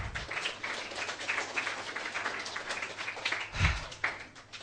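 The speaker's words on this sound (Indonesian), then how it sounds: "Tepuk tangan semua" Soft, steady applause from a group at the close of a lesson, a dense patter of claps that runs throughout at a modest level, with one louder thump near the end.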